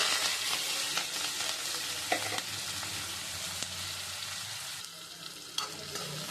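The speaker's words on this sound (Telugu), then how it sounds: "ఇప్పుడు దీన్ని ఇలా కొంచెం ఫ్రై చేసుకోవాలి" Onions, green chillies and curry leaves sizzle steadily in hot oil, a dense continuous crackle with a few stirring scrapes, close and fairly loud, with no talking.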